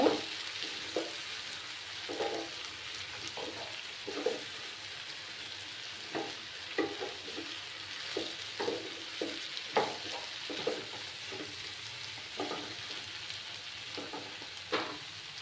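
Radish curry with green chillies sizzles steadily in a pan while a spatula stirs it in a loose rhythm of soft scrapes, the frying hiss running underneath from start to finish.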